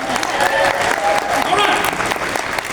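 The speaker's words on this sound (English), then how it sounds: "Give yourselves a round of applause, let's go!" Conference audience breaking into applause right after a call from the stage, a dense, loud wash of many hands clapping that holds steady with scattered voices and cheers mixed in.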